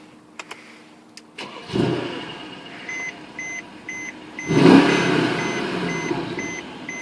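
A 2012 Mercedes-Benz E63 AMG is started with a push button. After a few chimes the engine cranks and catches with a loud, close roar, then settles into an idle as interior warning beeps repeat. A second rev swells midway. There is no talk.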